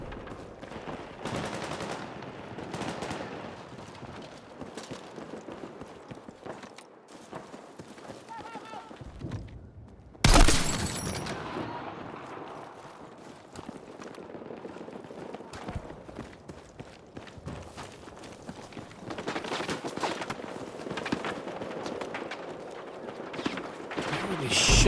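Gunfire crackles throughout a round of the Battlefield 6 video game, sustained bursts and scattered shots forming a busy, loud battlefield din with a sharp crack near the middle, while a player talks over it.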